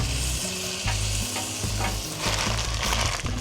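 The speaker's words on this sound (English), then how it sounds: "So let's start our big old steak here." A big steak searing in browned butter in a pan, giving a loud continuous sizzle and crackle with some stirring clatter, close up and without any talk.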